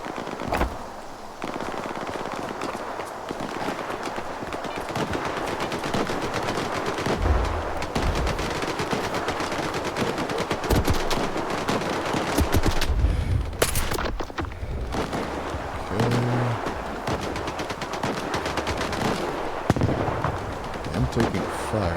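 Sustained automatic gunfire from the video game STALKER 2: Heart of Chornobyl, with rapid bursts and sharp shots rattling continuously over a dense battle din, loud and close throughout.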